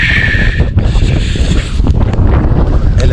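Strong wind buffets the microphone with a loud, continuous roar and gusting rumble throughout.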